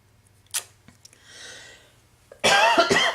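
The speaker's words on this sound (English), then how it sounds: "Okay, this cough's going to get to me." A single person coughs at close range in a quiet indoor room, with a faint click just before and a harsh burst of coughs near the end.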